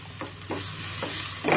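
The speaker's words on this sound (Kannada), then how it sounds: "ಮೀಡಿಯಂ ಫ್ಲೇಮಲ್ಲೇ ನಾವು ಫ್ರೈ ಮಾಡ್ಕೊಬೇಕಾಗುತ್ತೆ." Eggs with turmeric stir-fry in a pan for egg pepper fry. Rhythmic scraping strokes of a spatula cut through a loud, steady sizzle about twice a second, and no voices are heard.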